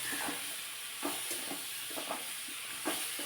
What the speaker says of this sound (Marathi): फ्लावर असा फोडणीमध्ये चांगला परतून घेतला ना मस्त चव लागते